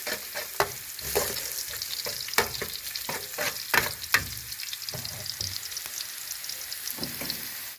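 Ginger and garlic sizzle and fry in a pan while being stirred, giving a busy crackle broken by sharp scraping strokes of the utensil. Nobody speaks.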